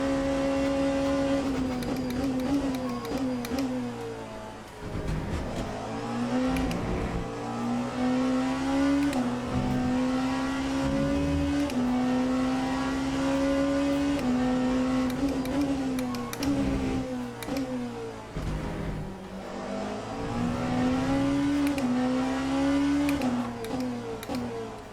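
A hypercar engine in the racing game Le Mans Ultimate drones steadily at high revs, rising and dipping through gear changes with brief lifts, loud and continuous with no talk.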